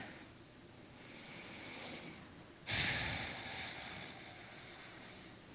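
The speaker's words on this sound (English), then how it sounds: "I invite you to just take a deep breath" A congregation at a prayer service takes a slow, deep breath together. It is a soft, airy inhale, followed by a stronger rushing exhale. The sound is faint and diffuse, with no talking.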